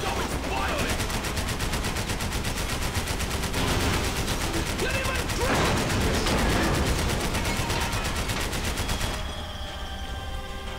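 Sustained automatic gunfire rattles through Max Payne 3 as rounds are sprayed into the ceiling, a dense, loud burst of rapid shots that runs almost continuously before giving way to a quieter tail.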